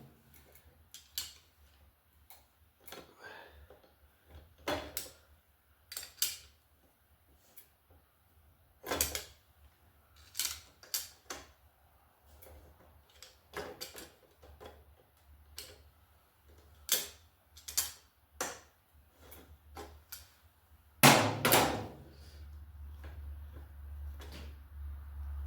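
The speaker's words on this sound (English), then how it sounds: "I'm just going back and forth trying to get those threads cleaned up a little bit." Threads on a Hiland BMX Redeem 20 bike are worked back and forth with a tool during assembly, producing irregular sharp clicks and scraping knocks close by, followed by a louder rustling burst near the end.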